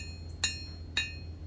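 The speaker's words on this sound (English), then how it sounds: "I notice I'm using the edge of the anvil to hammer those bevels in." Hammer blows on the edge of an anvil while beveling a small high-carbon steel blade, two sharp ringing strikes about half a second apart and a third starting at the end, over a quiet hum.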